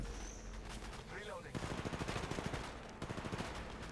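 Rapid bursts of R301 and R99 automatic fire in Apex Legends Mobile, rattling in quick repeated volleys at moderate loudness, with short pauses between strings of shots and voices talking over the action.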